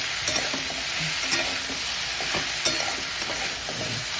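Cumin seeds, fried chilli and spices sizzle and fry steadily in a hot pan, with occasional stirring scrapes and clinks over the constant crackle.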